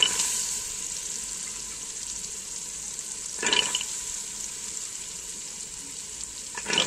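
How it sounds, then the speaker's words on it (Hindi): Peas and potatoes go into masala frying in a pan, producing a steady close sizzle with a brief louder hissing burst partway through and a smaller one at the end. "तो अब मैं इसमें डालने लगी हूँ मटर"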